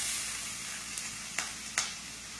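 Food sizzling as it drops into hot oil in a home kitchen, a steady broad hiss with two or three brief louder spits and crackles over a faint background.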